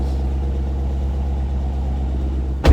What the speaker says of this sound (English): I probably have the loudest car in this neighborhood